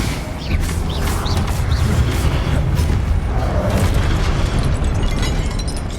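A Confringo blast spell in Hogwarts Legacy erupts as a loud, dense booming rumble with crackling bursts, a sustained explosive roar filling the whole moment.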